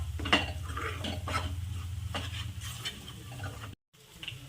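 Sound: stirring dum aloo curry in a pan

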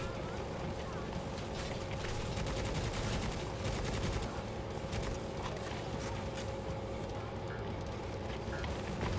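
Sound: enemy gunfire in video game Necromunda: Hired Gun

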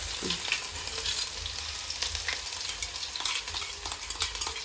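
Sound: crushed ginger and garlic frying in sesame oil

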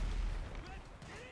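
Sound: gunshot in video game Grand Theft Auto 5

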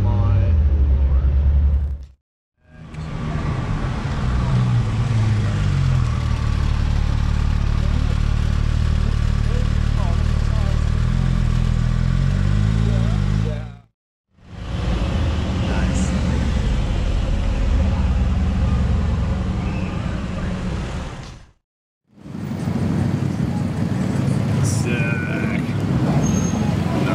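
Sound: Ferrari 812 Superfast engine

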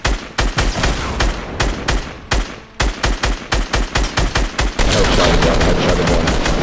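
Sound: incoming rockets in the video game Fortnite

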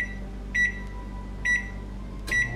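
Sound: oven control beeping while setting temperature to 375

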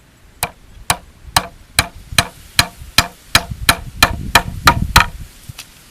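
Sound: hammering a nail into bamboo

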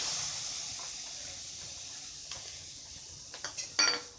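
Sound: chana dal added to hot pan

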